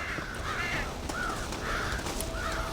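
Crows caw in the Red Dead Redemption video game, four harsh, clear calls spaced at roughly even intervals over a steady outdoor ambience with no talking.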